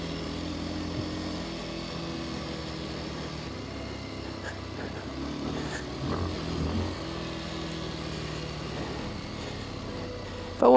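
A 2025 Kawasaki KLX230S dirt bike engine holds a steady, droning mid-pitched rev on a mountain trail climb toward Mt Shasta during a wheelie, loud and close without pause.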